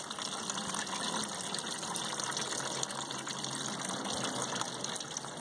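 Antifreeze drains from a Ford 8N farm tractor radiator into a bucket, a steady continuous gushing pour of liquid that runs unbroken throughout at close range, with no talking.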